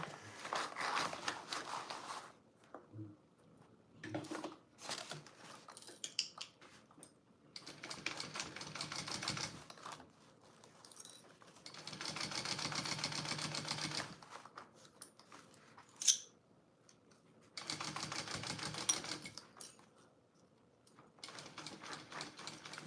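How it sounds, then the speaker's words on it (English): A sewing machine stitching fabric packing pods at a quarter-inch seam, running in several steady bursts of rapid whirring stitches separated by quiet pauses for repositioning, with faint clicks between runs. "And I'm just sewing this on at 1/4."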